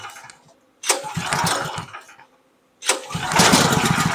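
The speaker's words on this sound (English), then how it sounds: "put it in choke and pull the line 3 or 4 times" A Champion dual fuel generator set to propane mode with the choke on is pull-started twice. Each pull gives a loud, rough burst of engine sputter that dies away, and a short silent gap separates the two attempts.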